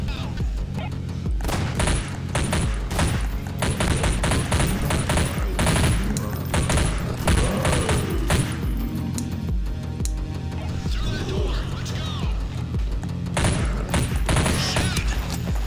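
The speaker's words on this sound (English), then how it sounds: "I'm shooting!" Dense automatic gunfire fills a firefight in the horror shooter Nightmare House, with rapid bursts of shots and booms running almost continuously and loud throughout.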